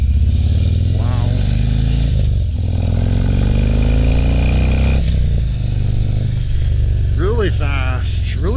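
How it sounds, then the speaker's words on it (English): A 2022 Harley-Davidson Street Glide Special rumbles loudly and continuously up close while being ridden, its deep engine drone rising and falling with throttle changes, with a rider talking over it and wind noise throughout. "I think this is definitely the loudest bike that I've been on all day."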